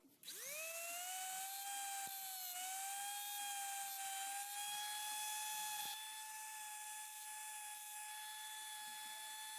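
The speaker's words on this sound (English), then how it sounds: "let us remove these excessive remaining pieces, these ones, and with the help of a grinder." A small grinder spins up to a high, steady whine while cutting excess helicoil from a bolt thread, pitch settling and holding with slight dips under load, close and alone.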